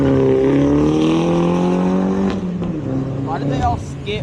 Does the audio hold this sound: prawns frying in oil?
no